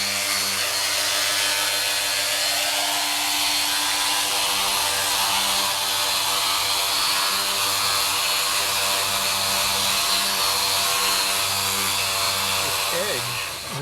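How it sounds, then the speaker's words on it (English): A power tool with sandpaper rolled onto it works the radiused edge of a Yamaha RZ350 motorcycle fuel tank, giving off a loud, continuous high whine and grinding hiss that holds steady throughout. "The sandpaper that's already on a roll, and we save it at various diameters. It fits right in there, and Dale's able to get that done real nice."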